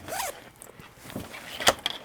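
A zipper is pulled along the large rear compartment of a Waterfly Kung Fu sport backpack, giving a quick close rasp in two short bursts with a sharp zip near the end.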